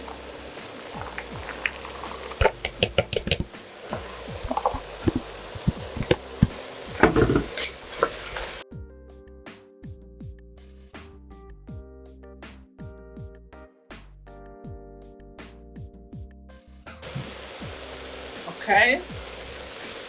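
Carrots go into a frying pan for an Italian lasagna filling and are turned over. There is a steady sizzle and crackle with scraping stirs and brief clatters, and someone speaks briefly.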